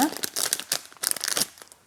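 Gift package of plant accessories opened with scissors, giving close, busy crinkling and crackling of wrapping in quick bursts.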